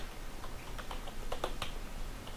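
Typing on a computer keyboard, a quick run of soft, close key clicks over a faint steady background.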